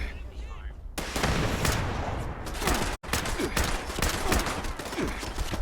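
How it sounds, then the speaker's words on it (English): Weapon fire in the video game Fallout 76, a dense fusillade of rapid gunshots and heavy blasts crackling continuously and loudly, broken by a brief silent cut midway, with a voice faintly underneath. "somebody's got a missile launcher."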